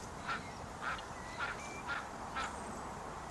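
A duck quacks five times at roughly even half-second intervals, each call short and nasal, moderately close over a steady background hiss.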